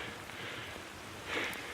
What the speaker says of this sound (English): And as you can see, it's raining,